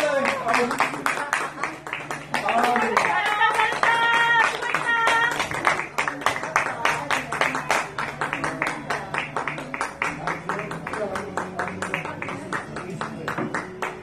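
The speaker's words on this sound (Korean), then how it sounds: "끝까지 박수 쳐주세요." Sustained crowd clapping fills the hall at a ceremony celebrating the Gimcheon little league baseball team's 2017 U12 national championship win, dense and steady, with a voice speaking over it partway through.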